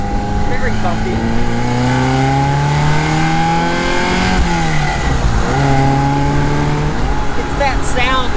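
A classic Ferrari or Porsche sports car engine revs and pulls while driving, rising and falling through the gears loud and close, with road and wind noise underneath.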